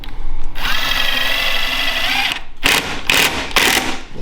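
A power drill drives screws during cabinet assembly: one long steady whir, then three short, loud bursts in quick succession, close and with no talk.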